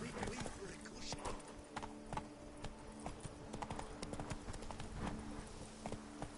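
Horse hooves clip-clop at a brisk rhythm in Witcher 3: Wild Hunt, close and steady, with a voice speaking over the hoofbeats.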